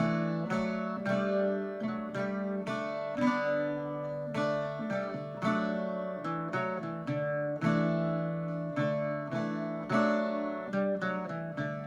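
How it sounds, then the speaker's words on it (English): Irish bouzouki picking out the Jack Hall melody, bright plucked strings ringing in a steady, even rhythm with sustained droning chords underneath, close and clear with no voices. "we're going to be going through the rest of the melody to Jack Hall"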